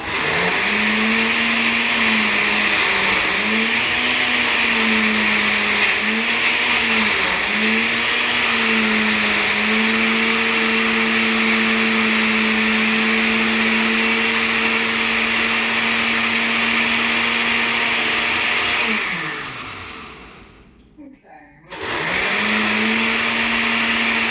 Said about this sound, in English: You're gonna listen to my blender, whether you like it or not.